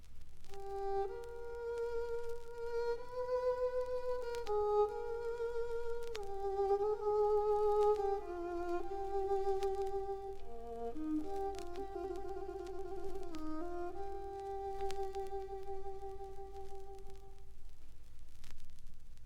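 A soft, veiled violin, muted at the bridge, plays a slow melody of sustained, gliding notes, quiet and subdued, with a faint hiss underneath.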